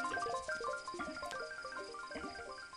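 Video game frog in Proteus croaking in quick repeated bursts, bright tonal chirps stacked over each other, moderately close against soft ambient background.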